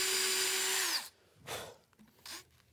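A screw gun drives screws into a wooden boat transom frame, one long loud whirring run close up, then two short bursts after a pause.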